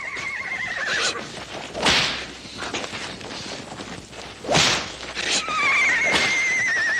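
A horse neighs loudly several times, shrill whinnies with breathy snorts between, alongside a few hoof clops and thumps.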